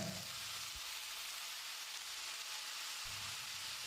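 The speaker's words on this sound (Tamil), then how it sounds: "ஒரு ரெண்டு நிமிஷம் இந்த கத்திரிக்காயும் உருளைக்கிழங்கையும் வதக்கி விட்டுறலாம்" Chopped eggplant and potato sizzle steadily in a hot pan, a continuous crackling fry with a few soft stirring bumps.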